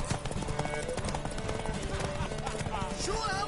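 Hooves clip-clop in a steady galloping rhythm for a horse in a PS4 video game, set under dense game music and effects, with someone talking over it.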